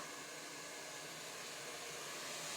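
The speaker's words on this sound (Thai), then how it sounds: "อาบน้ำเสร็จแล้วก็เป่าผมค่ะ" A hair dryer blows steadily after a bath, a continuous loud whooshing hum with a faint motor whine, unchanging throughout and with no voices.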